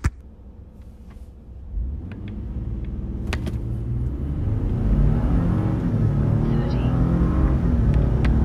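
Tuned Ford F150 EcoBoost pickup with an aftermarket air intake launching hard in sport mode with traction control off, its engine rising from a low rumble into a loud, sustained, steadily climbing roar close to the listener.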